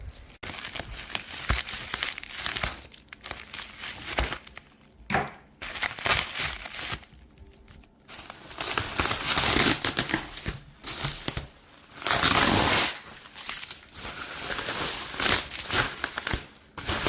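Packaging is unwrapped indoors at home, giving bursts of loud crinkling and crumpling paper and plastic with short pauses between, close and continuous over the whole stretch.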